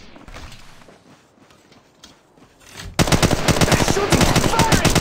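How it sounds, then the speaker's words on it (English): Automatic weapon fire in the mobile game Apex Legends Mobile erupts suddenly after a few quieter seconds of movement and light clatter, becoming a loud, rapid, sustained burst of shots right up close. "They're shooting at me!"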